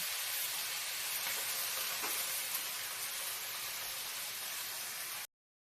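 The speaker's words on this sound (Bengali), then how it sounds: "বাঁধাকপিগুলো দিয়েও ভালো করে নাড়িয়ে ছাড়িয়ে নেব" Shredded cabbage, added to potatoes, stir-fries in a pan with a constant broad sizzling hiss and faint stirring, no voices, ending abruptly.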